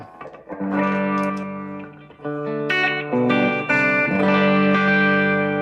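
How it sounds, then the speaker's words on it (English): Electric guitar on the treble pickup played through a small pedalboard of effects, ringing distorted chords and sustained notes with chorus and reverb, loud and close, changing tones across several strummed phrases with no talking. "Just give you a few tones of this small pedal board"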